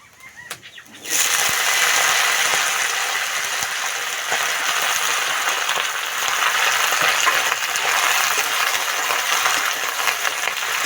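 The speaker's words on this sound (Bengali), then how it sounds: "শাকটা ভালো করে ভেজে নেব" Malabar spinach (pui shak) with garlic hits a hot pan and begins to fry, a loud, steady sizzle starting abruptly after a second of quiet and holding evenly to the end.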